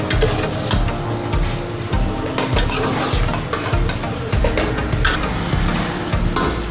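Spice paste stirred in a frying pan for murgh musallam, loud continuous sizzling with rhythmic scraping spoon strokes close by, no talk.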